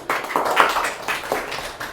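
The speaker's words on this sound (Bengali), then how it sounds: "ওর জন্য একটা জোরে হাততালি দাও" A classroom of children clapping together for a classmate during a fifth-grade maths lesson: a short, fairly even patter of hand claps over roughly two seconds, moderately loud and close.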